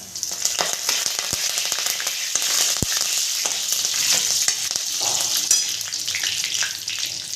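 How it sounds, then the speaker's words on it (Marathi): Crushed garlic and curry leaves fry in a pan, a continuous crackling sizzle with scattered sharp pops, close and fairly loud throughout. "हे असा लसूण खमंग गुलाबी परतून झाल्यानंतर कढीपत्त्याची पानं"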